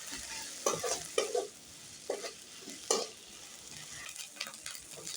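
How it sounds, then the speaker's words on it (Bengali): Onion paste frying in a pan for an aloo potol curry, a soft steady sizzle broken by several scraping stirs of a spatula, quiet and close with no voices. "এখন আমি পেঁয়াজটা দেওয়ার পরে আরও 1 মিনিট ফ্রাই করে নেব।"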